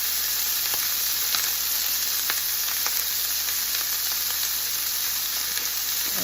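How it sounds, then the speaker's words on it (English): Corn seasoned with salt, pepper and cumin sizzling in a hot pan for a chicken pizza, an even, continuous frying hiss close up with faint scattered ticks and pops. "I'm going to cook them for about 5 minutes till they're lightly browned."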